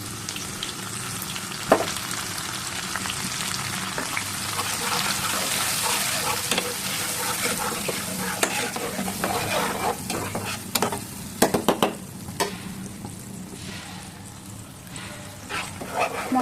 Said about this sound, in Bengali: মশলাগুলো ভালোভাবে কষিয়ে নিতে হবে